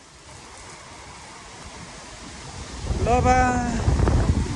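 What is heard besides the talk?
windstorm with rain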